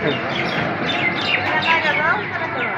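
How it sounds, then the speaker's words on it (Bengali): A dense chorus of many birds chirps and trills together at dawn, overlapping calls forming a continuous, fairly loud wash of song with no single bird standing out. "কত পাখি"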